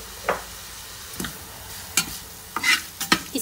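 Chicken cutlet mixture seasoned with black pepper and salt cooking in a pan, heard as a quiet sizzle with a few short, separate scraping stirs.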